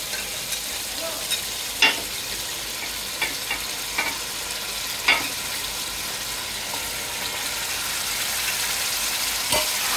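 Chicken with yogurt and spices frying in a pan for a homemade chicken biryani, an even hissing sizzle throughout with occasional light clicks and scrapes of stirring, close and without speech.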